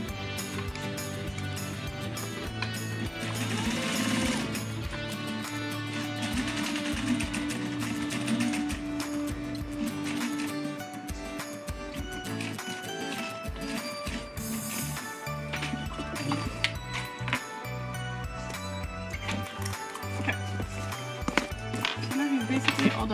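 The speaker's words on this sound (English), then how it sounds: "I'm stitching the top stitching from the inside because I have a flatbed machine" A flatbed sewing machine topstitches around a zip bag, a continuous mechanical whirr and rattle that runs at close range with shifting speed and small knocks throughout.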